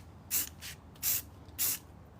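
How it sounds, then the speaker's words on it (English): Spray paint hisses onto spice jar lids in three short, sharp bursts, each lasting roughly a quarter to half a second, with brief quiet gaps between, close and fairly loud, no voices. "It just means you have to keep spraying the bottle a little bit more"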